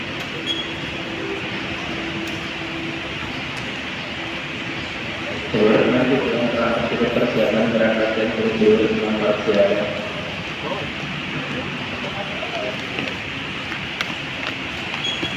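Commuter train pulling in at a railway station platform on the line toward Rangkasbitung, a swelling rumble of wheels and carriages for several seconds amid steady platform noise, with a voice talking over it.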